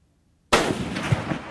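A single sharp handgun shot fired at a 500-yard target through a Nikon BDC reticle scope, an abrupt loud blast out of near silence that rings and rolls off outdoors with a faint echo.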